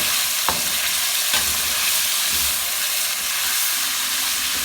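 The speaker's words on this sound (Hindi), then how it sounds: "हल्का सा इसको फ्राई करना है, ज़्यादा नहीं ब्राउन करना है, सिर्फ लाइट सा फ्राई करना है।" Chicken pieces lightly fry in a pan for chicken pulao, giving a continuous bright sizzle with a few sharp stirring knocks, close and steady, with no one speaking.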